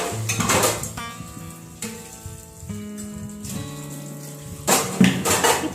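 Dishes and pots clatter and clink in a kitchen sink while being washed. Metal pans knock and ring with sustained tones, and louder rattling bursts come near the start and end. No one speaks.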